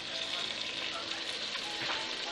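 Finely chopped tomatoes fry in hot oil for a green gourd curry, giving a steady, fairly faint hissing sizzle with no breaks.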